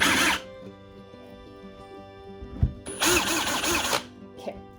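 Brief bursts of a small power drill whirring as it bores holes in a piece of wall decor, two short runs separated by quiet handling noises, close by.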